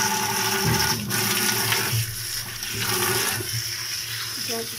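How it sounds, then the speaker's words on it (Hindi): Coriander is washed under a running tap, steady rushing water with splashing and slight shifts in flow as the leaves are rinsed, close and fairly loud. "इसमें धनिए में बहुत ही ज़्यादा मट्टी होती है, ये फिर थोड़ा ज़्यादा इसको वॉश करना पड़ता"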